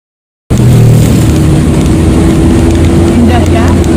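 Honda Brio car engine pulling hard in first gear up a steep, extreme mountain road between Pacet and Cangar, a steady loud drone running throughout after a brief silent start, with faint speech in the background.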